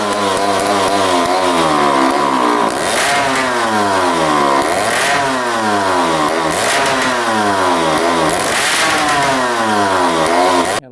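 A Honda dirt bike with a bogging fault, its power valves just checked, roars loudly up close, its two-stroke engine revving repeatedly in rising and falling sweeps with no speech over it.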